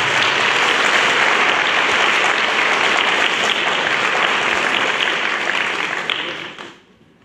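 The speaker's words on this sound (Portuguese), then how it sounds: "Aplauda esse povo de casa." A large congregation at a Lent sermon breaks into dense, sustained applause that fills the space evenly for several seconds, then fades out quickly at the end.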